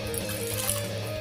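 Water trickles from a tap into a Thirsty Badger lather bowl used for wet shaving, a steady close splashing flow lasting about a second with no talking.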